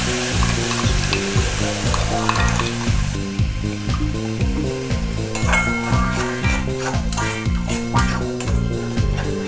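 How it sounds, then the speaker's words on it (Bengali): Spices and tomato paste fry in oil for an elephant foot yam curry, crackling loudly up close while a spoon scrapes and stirs in a quick repeating rhythm against the pan throughout. "খুব ভালো করে মশলা কষাতে হবে যতক্ষণ না তেল বেরোচ্ছে।"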